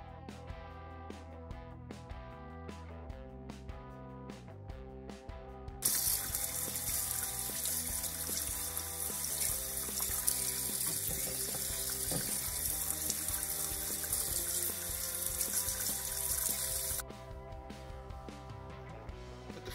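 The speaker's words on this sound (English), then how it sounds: "Washing the bear's tooth, you want to pull it apart, break it into pieces" Bear's tooth mushroom is washed and pulled apart under a running kitchen tap; water splashes steadily and loudly from about six seconds to seventeen, with faint handling clicks and background music before and after.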